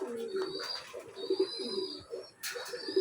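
Racing pigeons coo softly at close range, giving several short throaty calls in uneven bursts over quiet background noise, with faint chirps mixed in.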